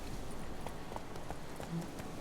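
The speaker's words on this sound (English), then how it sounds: "Luckily, Gerald can always count on his horse Roach to help him in this travel." Rhythmic clip-clop of the horse Roach galloping in The Witcher 3, soft hoofbeats repeating over a steady background wash, moderately faint and fairly close.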